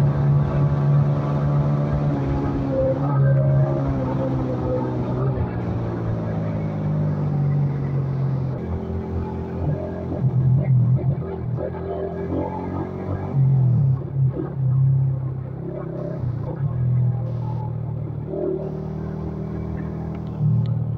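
A Honda CG125 motorcycle with a fourth gear that will not engage runs steadily nearby, its engine giving a continuous low hum with harmonic tones that rise and dip in pitch as it is revved.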